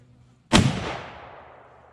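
A single sharp rifle shot from a .348 Winchester firing a Speer 180-grain bullet over a chronograph outdoors, a loud crack followed by a rolling echo that decays over about a second.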